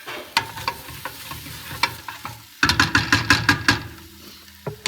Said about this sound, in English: I also like to add and saute up some cabbage